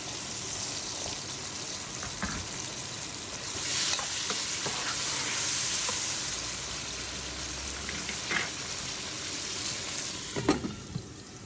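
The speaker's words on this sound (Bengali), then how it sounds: "এই তো আবারও নাড়াচাড়া করে নেব।" Spice paste sizzling and frying in a pan while being stirred for chicken korma, a steady close hiss with scraping stir strokes recurring throughout, swelling slightly midway, no voices.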